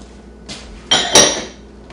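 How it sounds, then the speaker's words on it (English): Diced potatoes and sweet potato stirred in a cooking pot: a few brief scraping, clinking strokes against the pot, close and fairly quiet, with no talking. "Stir that together and we'll let it those get tender."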